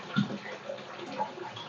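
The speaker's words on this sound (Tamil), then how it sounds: "மோட்டர் போடுற பாருங்கள். ஸோ தண்ணி பாருங்கள் எவ்வளோ ஃபோர்ஸ் வருதுன்னு." Water from a 115 W sump pump in a hobby sump filter setup gushes in a steady, rushing stream, close and constant, with no talking.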